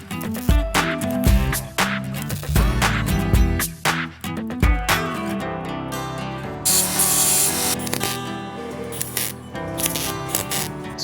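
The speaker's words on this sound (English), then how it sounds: "So these belt grinders that I use are built by a company called 84 Engineering here in Australia. The model that I'm using is called a Shopmate 48." Metal is ground on a Shopmate 48 belt grinder built by 84 Engineering, with bursts of harsh abrasive rasping that start and stop, loud and close, then ease into a hissing grind near the end.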